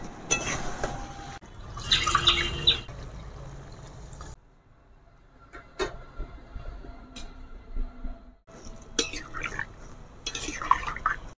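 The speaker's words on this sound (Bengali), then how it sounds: "এবার এর মধ্যে আমি জল দিয়ে দেব।" Water poured into a pot of chicken curry with potatoes after the meat has been fried in spices, a splashing pour in bursts with stirring and clatter between, heard close and alone.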